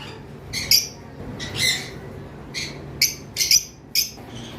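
Mango-head lovebirds squawk in short, sharp bursts, about seven harsh calls in irregular clusters, fairly close with quiet gaps between.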